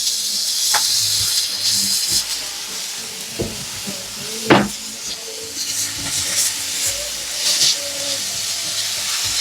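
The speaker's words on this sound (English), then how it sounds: "we're just going to saute these a little bit" Food sizzles in olive oil in a skillet, a close, constant hiss and crackle with occasional clinks and stirring knocks.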